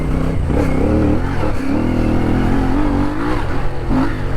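A CF Moto 450 motorcycle engine revs hard and loud, dipping briefly as it shifts into second gear, then pulling up again in a steady rising drone.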